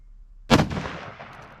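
A single loud 6.5 rifle shot during deer-season target practice, a sharp close blast followed by a long rolling echo that fades over a second.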